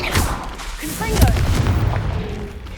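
A Confringo fire spell blasts in Hogwarts Legacy, a booming impact near the start with rumbling fiery crackle trailing off, set among game voices and spell shouts.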